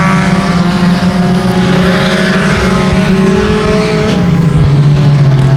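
Stock cars roar down into turn 1 at 281 Speedway, several engines blending into one loud, steady wall of sound with pitch shifting as the field passes.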